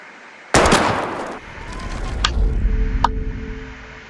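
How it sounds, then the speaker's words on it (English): Gunshot fired at bottles in the video game Life Is Strange: one loud sharp blast with a ringing tail, followed by softer impacts and a couple of brief clicks or pings. "We're gonna shoot all these bottles without wasting a single bullet."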